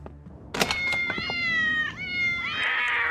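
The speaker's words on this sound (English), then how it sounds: "Getting rid of all them cats!" Cartoon cats meow and caterwaul in a loud, drawn-out, wavering yowl that rises and bends, joined by a few sharp bursts of sound near the start.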